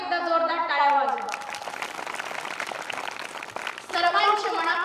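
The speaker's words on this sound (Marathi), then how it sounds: "स्वतःसाठी एकदा जोरदार टाळ्या वाजवा" An audience clapping together in a burst of applause at a gathering, dense and continuous for a few seconds between stretches of someone talking.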